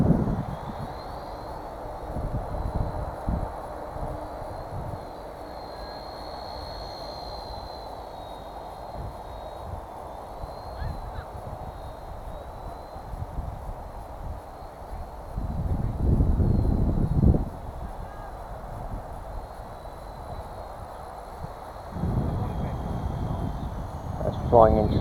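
A WL Toys V930 brushless flybarless RC helicopter flies in gusty wind, its thin high-pitched rotor whine hovering steadily, with bursts of wind buffeting the microphone now and then.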